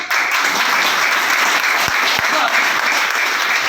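Audience clapping steadily at a business training session for a lifestyle marketing company, a dense, sustained wash of applause filling the room from start to end.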